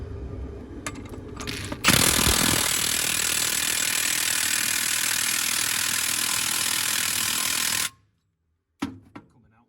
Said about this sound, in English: Just taping that on so it doesn't rattle loose when I'm doing it now with the gun.